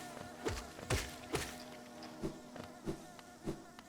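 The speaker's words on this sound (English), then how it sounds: "Lots of little worker-bees." Worker bees buzz inside the Hive in the Hollow Knight video game, with a low droning hum and repeated soft thumping pulses spaced about half a second apart and no talk.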